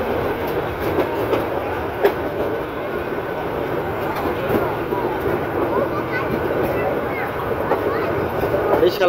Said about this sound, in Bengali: এই যে ট্রেনটি একটি বাঁক নিচ্ছে